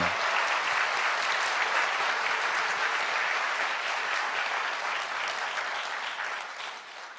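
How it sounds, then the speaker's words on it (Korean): A seated audience at a gospel revival lecture gives a round of applause, a dense, even patter of many hands that holds steady and then gradually tapers off toward the end. "오늘 하루 종일 수고하신 모두를 위해서 박수를 한번 치겠습니다"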